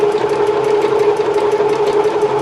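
A sewing machine runs steadily while stitching fabric for neating seams, a close, continuous whirring hum with a fast rhythmic needle pulse.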